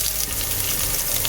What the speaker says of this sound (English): Now in the same vessel, I'll be frying some onions.